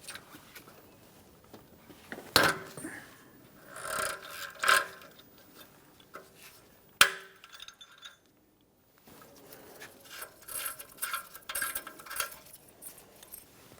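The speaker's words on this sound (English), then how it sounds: "To remove this, we're going to have to use a thin-walled O2 sensor socket to slide down in this area." A thin-walled O2 sensor socket is worked counterclockwise on the upstream oxygen sensor of a 2012-2015 Honda Civic, giving intermittent metallic clinks, rubbing and scraping, close and fairly faint, with pauses between bursts.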